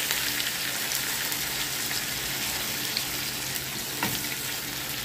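Squid sizzling in a pan as it goes in for sweet and spicy adobo with its ink, a steady bright crackling hiss, moderately loud and close, with no talk.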